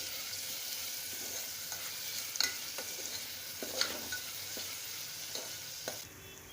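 Tomatoes stir-fried in a pan for a green moong curry, giving a soft steady sizzle broken by repeated spatula scrapes and taps against the pan, close but fairly quiet.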